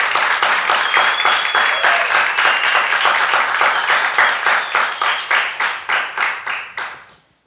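A live concert audience bursts into sustained applause, loud and dense at first, then tapering into a few scattered, fading claps before stopping.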